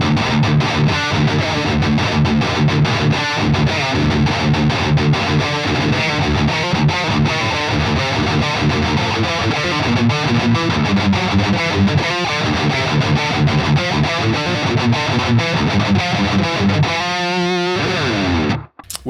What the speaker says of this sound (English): First one we've got here is the Rhythm channel